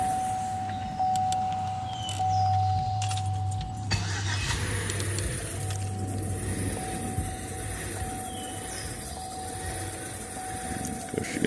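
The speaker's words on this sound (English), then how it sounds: "Of course, you can hear that belt." A 2007 Chevy Tahoe with a 5.3 engine running with a noisy belt, giving a continuous whine and rumble close by, with small clicks and rattles scattered throughout.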